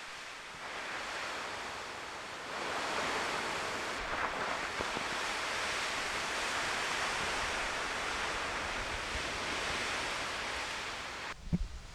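Ocean surf where lava from Kīlauea pours into the sea, a broad continuous roar of waves swelling after a quieter start, steady and fairly distant with wind-like hiss.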